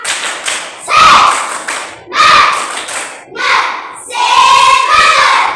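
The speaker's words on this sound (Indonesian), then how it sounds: "Kita tepuk semangat satu kali. Tepuk semangat." A school class claps a cheer rhythm in four loud bursts of group clapping and thumping, mixed with voices shouting together, close and energetic.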